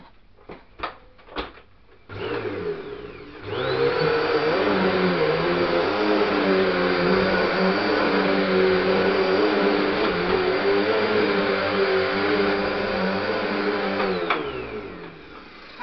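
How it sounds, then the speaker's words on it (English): A Hoover Hurricane Bagless Pet upright vacuum cleaner gives a few clicks, then starts up and runs with a loud, steady whirring motor drone for about ten seconds before powering down. "So now we're going to see the Hoover in action."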